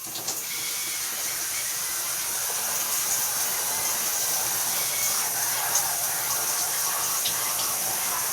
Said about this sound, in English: Water back on.